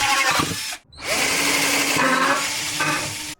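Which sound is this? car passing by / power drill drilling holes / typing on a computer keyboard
power drill drilling holes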